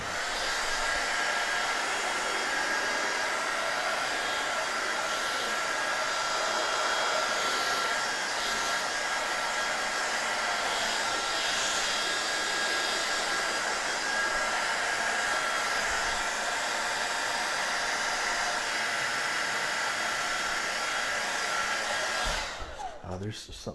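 A hair dryer blows steadily and loudly at close range while drying off a rock, a constant whooshing roar that holds for about twenty-two seconds before cutting off abruptly near the end.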